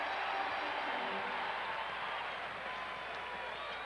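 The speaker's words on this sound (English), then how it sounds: "Crowd responding with Johnson's bucket." Crowd at a 1997 Bulls versus Knicks basketball game roaring after Johnson's basket, a dense, sustained wash of cheering and applause that fills the whole clip without letting up.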